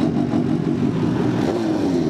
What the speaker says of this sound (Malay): Dia semua dah start engine, kita start lah.